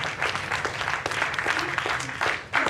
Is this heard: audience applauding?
yes